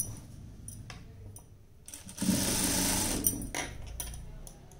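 A sewing machine stitching folded cotton underwear fabric at the neck and back, a steady whirring run of stitching in the middle with quieter handling and clicks before and after.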